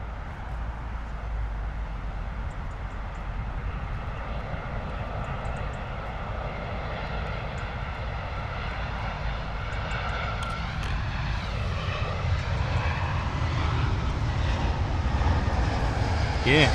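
An Airbus A320 coming in to land at London Heathrow, its engines a steady, fairly distant roar that swells slightly toward the end, with a voice faintly speaking over it.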